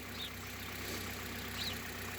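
Twenty-year-old Hyundai Solaris engine idling on green 5W-30 oil, a faint steady low hum with a fine regular ticking knock running through it, heard alone.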